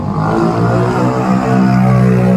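A big bike motorcycle engine runs with a steady, full-throated rumble and slight rises in revs, close and loud throughout with no pauses.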